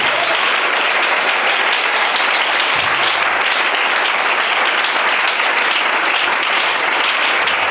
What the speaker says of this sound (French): Les élus doivent l'acclamer.